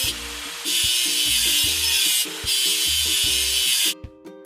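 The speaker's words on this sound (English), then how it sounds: "Let's get rid of the machine's rust." In a kids' construction video game, rust is scrubbed off a machine with a loud, rough, repeated scraping and sanding noise in long strokes over cheerful background music.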